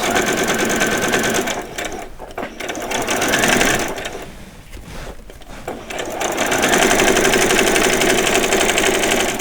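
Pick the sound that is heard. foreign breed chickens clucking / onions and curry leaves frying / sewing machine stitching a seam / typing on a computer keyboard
sewing machine stitching a seam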